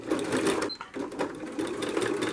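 A sewing machine stitches seat cushion fabric forward and back, a rapid close mechanical rattle with a brief pause as the stitch reverses before running on.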